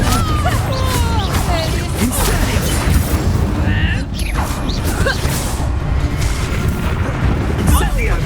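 Loud, booming blasts from the Confringo spell in Hogwarts Legacy ring out over a dense wash of game noise. Speech runs through the whole busy stretch.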